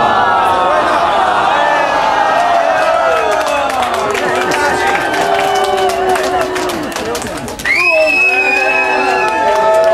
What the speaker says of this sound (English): Can we have the first ever applause for the loser, Magnus Bellum